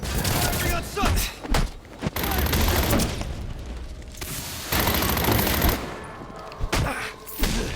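Bursts of gunfire aimed at a suspect during a pursuit in the Batman Arkham Origins video game, loud repeated volleys and sharp shots in uneven clusters, with shouted voices between them.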